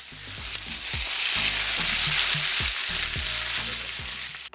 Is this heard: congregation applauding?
no